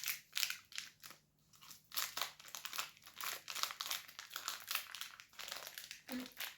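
Crinkly plastic wrapping of a store-bought packet crackles and tears in short bursts, close and fairly quiet, with uneven pauses between the rustles.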